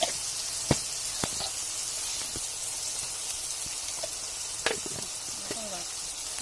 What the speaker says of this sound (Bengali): এর মধ্যেই মা সবিন দিয়ে একসাথে ভাজা করে নেবে